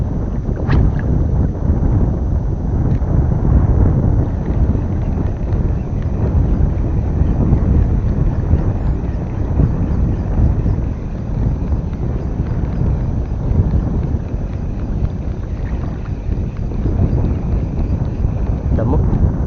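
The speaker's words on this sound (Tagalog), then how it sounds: "Malakas ang hangin." Strong wind buffeting the microphone while fishing outdoors, a loud, continuous low rumble with gusting texture throughout, with a voice faintly under it.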